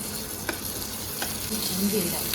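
Onions dropped into hot oil in a kettle for kettle chicken, a close, loud frying hiss with a few stirring clicks throughout.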